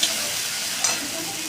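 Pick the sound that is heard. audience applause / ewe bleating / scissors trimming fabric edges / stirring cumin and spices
stirring cumin and spices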